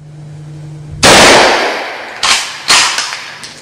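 Shots from a Ruger Mini 14 rifle during SAS marksmanship training, three sharp, loud, close reports spaced over a few seconds, each followed by a short decay, with no talking.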